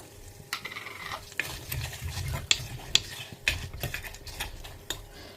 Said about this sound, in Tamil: கடுகு வந்து லேசாக பொரிய ஆரம்பிக்கிறது